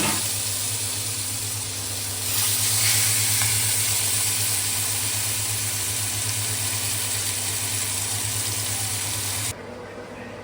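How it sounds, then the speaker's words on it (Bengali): Fish, including koi fish, fry in mustard oil with a steady, loud, close sizzle that hisses continuously for several seconds before cutting off abruptly near the end. "এখন এটা শুধুমাত্র তুবার জন্য ফ্রাই করব"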